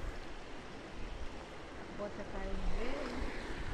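Floodwater rushing over a broken, washed-out rural road, a steady broadband roar with wind noise, fairly faint and continuous, with a brief voice-like tone near the end.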